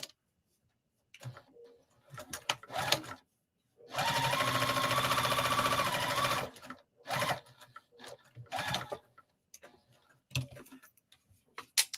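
A sewing machine stitches a zipper bag in one sustained run of rapid, even motor-driven clatter, framed by short bursts of handling, fabric shuffling and brief starts before and after.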